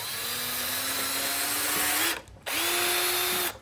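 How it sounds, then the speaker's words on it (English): A power drill whirs steadily into wood, stops briefly, then spins up again for a second run; close and loud, no talking. "let's pre-drill these holes then"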